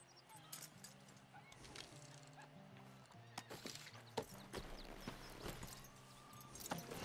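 Hooves of a ridden horse in Red Dead Redemption 2 clip-clop at a steady gait, faint and close, under background music and scattered game sounds.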